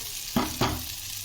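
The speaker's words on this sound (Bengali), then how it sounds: "আর দু মিনিটের মতো মশলার সাথে চালের সাথে ফুলকপিটা কষিয়ে নেব" Cauliflower sautéed with rice and spices in a pan: two quick stirring scrapes over a low, steady sizzle.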